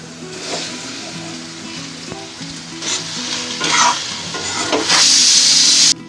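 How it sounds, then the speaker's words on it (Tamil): Boiled quail eggs being added to sautéed masala and stirred in a hot pan: a loud continuous sizzle with scraping stirs, rising to a hissing burst near the end before it cuts off, close, with no talk. "இப்போ நம்ம அவிச்சு வச்ச காடை முட்டை எல்லாத்தையும் உள்ளே சேர்த்துடலாம்."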